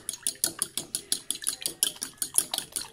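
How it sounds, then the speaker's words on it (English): A fork whisks three cracked eggs in a bowl, a quick, even series of close clinking taps against the bowl at roughly four strokes per second, with no one speaking. "just mix it up like that with the fork"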